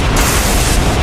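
A loud, roaring, sustained explosion burst, a fire dragon's blast with poison erupting in all directions across an arena, dense and close with no talking.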